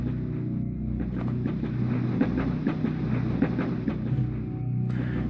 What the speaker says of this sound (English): The train has the sound of moving parts